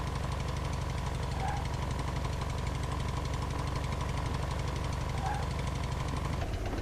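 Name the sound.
four-wheel drive car engine in video game Outbreak Island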